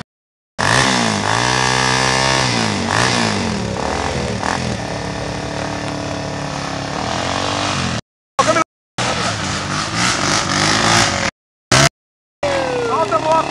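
A motorcycle engine revs hard on a dirt trail at Casa Branca-SP, loud and close, its pitch sweeping up and down in long pulls for several seconds before choppy cut-outs, with voices talking over it.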